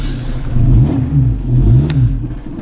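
A Honda Civic engine runs low and uneven, its note rising and falling in rough surges as it struggles and labours close by, with no talking.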